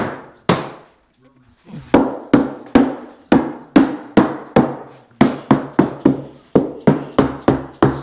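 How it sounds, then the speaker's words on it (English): Dead blow hammer whacking a fiberglass bumper mold to loosen it, a steady series of about fifteen sharp, close thumping knocks in quick rhythm after a brief pause, with no voice over them. "I use this dead blow hammer. Just give it a little whack"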